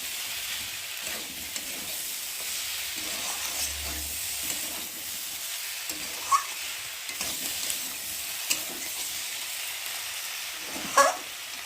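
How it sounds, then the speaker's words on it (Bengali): Eggplant fries in a spice mixture in a pan with a steady close sizzle and hiss. Occasional utensil clinks come from stirring, and nobody talks. "মশলার মধ্যে ভালো করে বেগুনটাকে ভেজে নেব"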